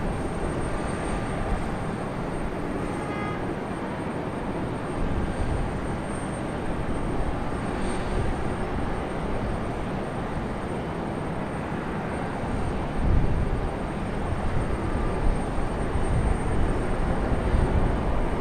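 An American airliner waits for departure at Raleigh Durham airport, its engines a steady, broad roar at a distance that holds throughout and swells slightly toward the end, with no voices.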